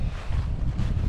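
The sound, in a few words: wind blowing outdoors at a shooting range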